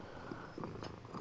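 Polly, a pet cat, purrs close to the microphone, a soft low continuous rumble with slight rhythmic swells over a brief moment, faint and alone.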